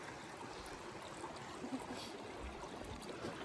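Gentle stream flowing steadily, soft burbling and trickling water close by, continuous with no voices, on the Pacific Crest Trail in Washington.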